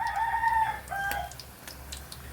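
A rooster crows nearby in a home kitchen during the frying of maruku snacks made with peas, a single drawn-out call standing clear over low background hum, fading into quieter kitchen noise.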